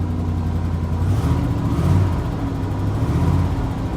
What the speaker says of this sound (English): Give her some throttle.